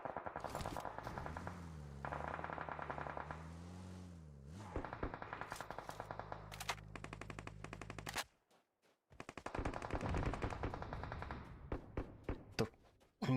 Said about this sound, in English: these teams are going to be kind of shooting across the road here